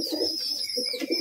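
A pigeon feeding its hungry chicks gives a steady run of low, throaty cooing murmurs, close and continuous for about a second, with a thin high-pitched tone running above it.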